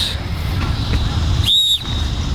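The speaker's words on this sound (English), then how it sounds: "They ain't going to hear your whistle. You got to be loud." A referee's whistle is blown loudly at an outdoor soccer game: one sharp, shrill blast of about a quarter second rises over steady open-air background noise.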